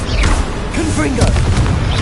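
The Confringo blasting spell in Hogwarts Legacy goes off as a loud, booming explosion that rumbles and swells across the moment, with a voice faintly present beneath the blast.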